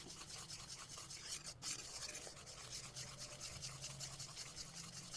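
Sesame and jaggery syrup stirred continuously in a pan for Makar Sankranti tilgul laddoos gives a steady close scraping and rubbing under a soft boiling hiss, with no voices.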